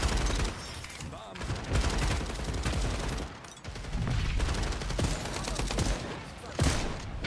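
Rapid gunfire from a first-person 5v5 hero shooter, FragPunk, with shotgun blasts among dense volleys of shots that run almost without pause, loud and close, with a voice speaking faintly underneath.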